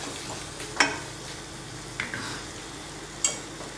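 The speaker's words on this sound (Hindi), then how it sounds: "2 मिनट और इसे हम थोड़ा भूजेंगे" Onion masala for pyaz ki chutney sizzles softly in a pan, a constant frying hiss broken by a few sharp scrapes and clinks of the stirring spoon, with no talking.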